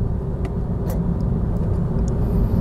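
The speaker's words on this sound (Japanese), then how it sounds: "やっぱり2500回転あたりからシューってきますね。" A Honda Civic FK7 fitted with a custom air intake drives on a road, its engine a steady loud rumble with a faint airy whoosh on top and occasional light ticks, no speech.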